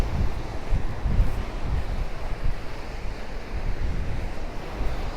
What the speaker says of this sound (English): I would imagine you can probably hear the waves pretty good.